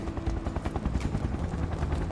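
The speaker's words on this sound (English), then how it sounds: "I know the helicopter sound is annoying here" In Final Fantasy VII Remake, a helicopter hovers close by, its rotor beating in a fast, steady run of thumping pulses for the whole stretch, loud and unbroken by speech.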